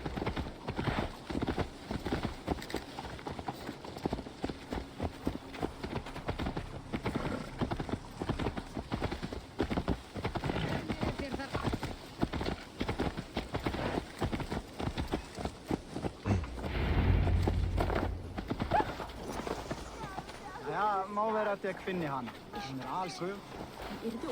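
Horse hooves clip-clop in a steady galloping rhythm during gameplay of Assassin's Creed Valhalla, loud and continuous, with game voices and speech running over the hoofbeats throughout.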